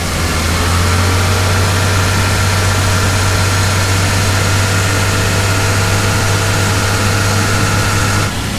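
A Toyota Land Cruiser FZJ80 engine runs at a raised idle, a loud, steady close-up drone with a strong low hum and no break before it cuts off near the end.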